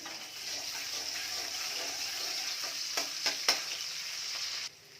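Chopped garlic frying in a wok, a steady close sizzle with a few sharp scraping stirs near the end before the sound drops away abruptly.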